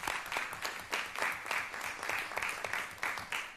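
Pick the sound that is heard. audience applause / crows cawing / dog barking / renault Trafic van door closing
audience applause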